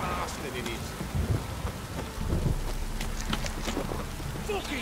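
Heavy rain pours down in The Witcher 3, a dense, steady hiss of falling water with occasional low rumbling swells running through the whole stretch.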